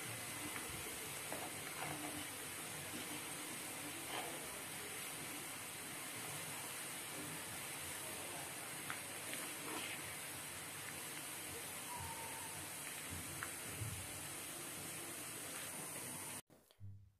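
Chopped onion sizzling and frying in hot oil in a pan while being stirred to make homemade herbal hair oil, a soft steady hiss throughout with occasional faint stirring clicks, ending abruptly.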